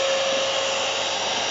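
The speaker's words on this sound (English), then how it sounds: "I want to show you the suction power of this little Genesis motor." Small Genesis motor in a simplified bee vacuum box, running under suction: a loud, steady whine with a strong single tone, unbroken and close, with no talking.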